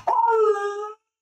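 A dog whines to be let back through a door indoors, one drawn-out, high-pitched howling whimper lasting under a second, close and fairly loud, with no talk over it.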